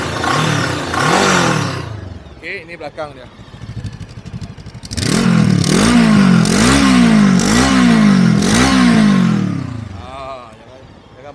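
A Morbidelli T502X motorcycle engine, heard from behind the bike, revs repeatedly: loud, close sweeping rises and falls in pitch in a series of throttle blips over a clattering idle, with someone talking briefly between the revs.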